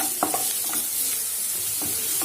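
Finely chopped onion fries in hot oil with a steady close sizzle, broken by a few scraping stirs of a spoon against the pan, and no voices.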